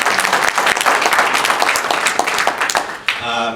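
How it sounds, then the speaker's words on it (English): Loud, sustained audience applause fills a forum room, dense clapping from many people continuing steadily throughout with a brief dip near the end. "I'd like to give a round of applause to her for the campaign she did."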